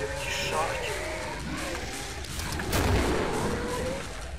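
A loud in-game explosion from the shooter Killing Floor, a booming burst near the middle of the clip amid continuous gunfire and game noise, with players talking over it.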